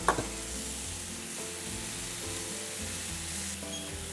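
A steak sears in avocado oil inside an air fryer, giving a steady, loud, close sizzle that runs unbroken throughout.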